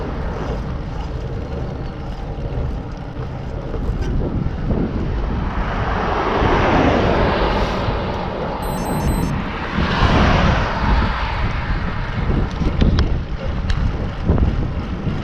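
Highway traffic roars past a cyclist riding along the road, a broad rushing swell of passing vehicles mixed with wind buffeting, rising and fading over the ride, no talk.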